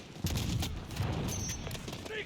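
Rapid gunfire bursts in the Call of Duty: Modern Warfare game, a dense volley of shots and booms running throughout under a player's voice.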